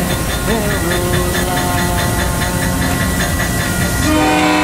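Cuyahoga Valley Scenic Railroad train passing close and loud in winter, rumbling wheels with rhythmic clicking and a sustained horn or whistle tone that swells near the end.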